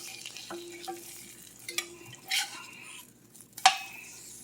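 An egg sizzles softly in a hot Lancaster #8 cast iron skillet, with scattered scraping and light clinks of a spatula as it is worked and flipped, ending in a sharp metallic tap.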